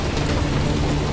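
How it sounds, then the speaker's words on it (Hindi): Steady rain falling as an atmospheric effect in a Hindi horror ghost story set by an old hostel garden with iron benches, a dense continuous hiss with low rumble, close and even throughout with no voices. "बारिश अब धीमी हो चुकी थी"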